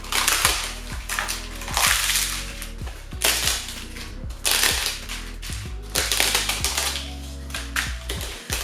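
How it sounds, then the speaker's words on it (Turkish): Dry yufka phyllo sheets are crumbled by hand into a round Borcam glass dish for chicken çılbır, making repeated crisp crackling crunches in close bursts with no talking. "Borcamın içerisine böyle kırıklayıp alalım."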